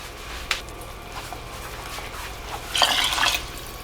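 A cup of water is poured into a cooking pot of lentils and veggie broth. A few faint drips come first, then a short splashing pour near the end, over a soft background hiss.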